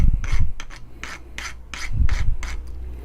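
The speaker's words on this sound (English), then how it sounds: "Again with my trusty file" A hand file rasps across the edge of a wooden handle in about eight steady back-and-forth strokes, each a short, close scraping burst separated by brief pauses.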